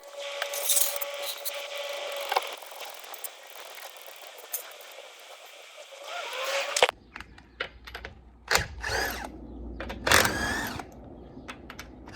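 An impact gun or power tool drives a 19mm nut on a Ford Escort during wheel bearing work, a dense whirring burst for the first seven seconds, followed by several sharp, separate clicks and rattles at close range.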